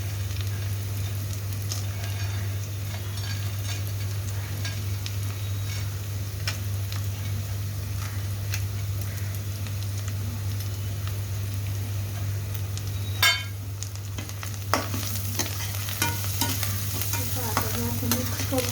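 Poha made from crumbled leftover bhakri with roasted peanuts is stirred and fried in a pan: a continuous soft sizzle over a low steady hum, with light ticking clinks and sharper spatula scrapes near the end.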